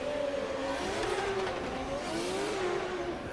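A Nissan Silvia drift car at a drift championship qualifying run revs hard with wavering engine pitch and rising and falling tyre squeal, heard from a moderate distance amid the arena's wash of noise.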